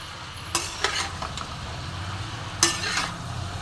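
Vegetables and fish cooking with spice paste in a pan over a medium flame, a steady sizzle and frying hiss broken by several scraping stirs of a spoon against the pan.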